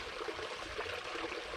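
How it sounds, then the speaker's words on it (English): A waterfall flowing steadily, giving a continuous broad rushing hiss with a low rumble underneath, soft and even throughout with no voices. "just listening to this waterfall will heal any ailment you have"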